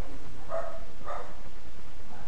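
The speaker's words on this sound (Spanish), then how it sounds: "el perro está ladrando por ahí" A dog barking somewhere off in the distance, two muffled barks about half a second apart heard over steady background noise.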